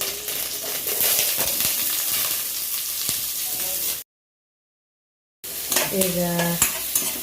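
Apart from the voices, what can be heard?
onions frying and being stirred until golden brown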